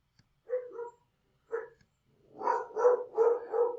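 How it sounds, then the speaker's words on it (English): A dog barks in the background of a home recording, a few spaced single woofs followed by a faster burst of four barks, moderately loud with no talking over it. "Can you hear the dog in the background?"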